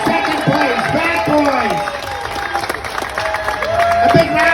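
A crowd at the London 2025 Ribfest claps and cheers for the second-place winners, steady applause running under loud, overlapping talk and calls close by.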